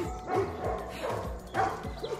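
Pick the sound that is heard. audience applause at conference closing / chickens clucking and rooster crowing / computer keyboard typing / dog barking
dog barking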